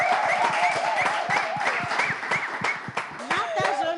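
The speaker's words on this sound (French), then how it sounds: "Est-ce qu'on peut applaudir Inès?" An audience applauds with a short burst of dense, close clapping lasting a few seconds, while voices talk over it.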